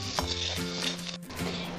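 Three green chillies hitting hot oil in a pan, a short bright sizzle with faint clinks of utensils, close and steady for under two seconds with no talking.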